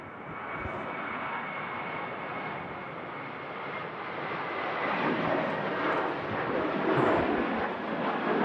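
Jet2 airliner departing Manchester Airport for Marrakesh, a distant steady engine roar that swells gradually and grows louder toward the end.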